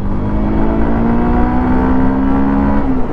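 A Honda Unicorn 160 motorcycle engine drones loud and close while riding in first gear, its pitch rising steadily as it revs up.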